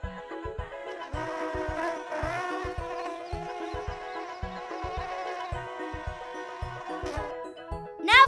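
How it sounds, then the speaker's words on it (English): A cartoon bee buzzes in flight, a wavering nasal drone with sliding pitch over a bouncy plucked-bass tune, ending in a quick rising whoosh. "Oh, great. The bee is coming for its pollen."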